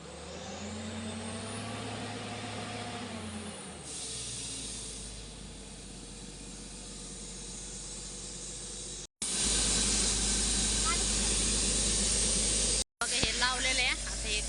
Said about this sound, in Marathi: गाडीचाच खूप आवाज येतोय